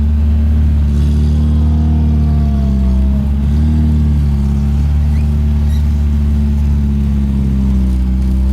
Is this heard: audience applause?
no